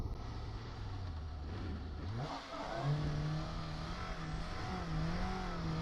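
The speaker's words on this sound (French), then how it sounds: "Voyons si on arrive à faire un burn-out tranquille." A Suzuki GSX-S 750 naked motorcycle doing a burnout, its engine held at a steady drone, then dipping and revving up higher and sustaining, loud and close with no talk.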